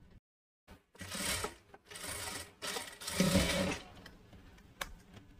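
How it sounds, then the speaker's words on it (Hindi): A sewing machine stitches a seam on a satin evening gown in several close, loud bursts of rapid mechanical whirring, separated by short pauses and handling noise. "अब यहाँ से जो अपनी सिलाई खुली है वहाँ पे हम सिलाई लगा लेते हैं।"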